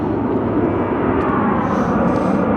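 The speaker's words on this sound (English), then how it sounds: "Departing right now. It's a St. Louis bound 737-800." A Boeing 737-800 airliner departing Phoenix Sky Harbor Airport, a loud, steady, broadband jet engine roar heard continuously throughout with no breaks.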